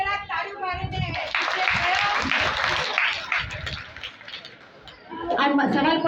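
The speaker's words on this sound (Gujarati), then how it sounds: "છોકરે કે જરાક તાળીઓ મારી દે" Children applauding at a Jain religious quiz, a burst of lively clapping that swells and fades among voices and chatter in a hall.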